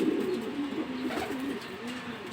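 A male racing homer pigeon, a grizzle, gives a run of low, throaty coos close by, repeating in a rolling rhythm against a quiet background.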